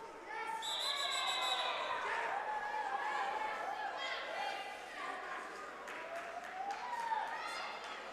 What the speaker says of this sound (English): You can really hear the crowd getting into it.